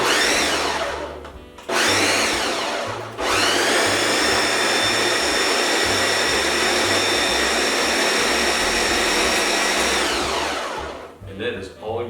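A powered food prep machine roars to life at full speed, a loud sustained motor whine with a brief dip and restart early on, running steadily for several seconds before winding down.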